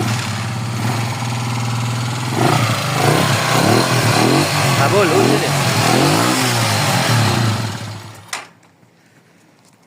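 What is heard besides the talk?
motorcycle engine idling and revving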